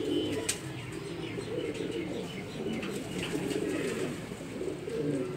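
Pigeons coo softly and repeatedly in a low rolling murmur, with occasional faint chirps and steady background noise.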